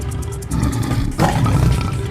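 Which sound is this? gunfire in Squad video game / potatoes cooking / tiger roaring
tiger roaring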